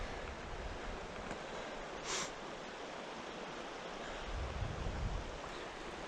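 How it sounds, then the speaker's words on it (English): A river flows steadily right beside a campsite, a soft continuous rushing wash with slight swells, fairly quiet and uninterrupted by talk. "Right along the river."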